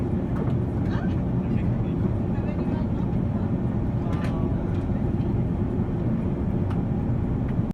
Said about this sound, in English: a Boeing 737 operated by an Icelandic crew touches down on the blue ice runway at Troll Airfield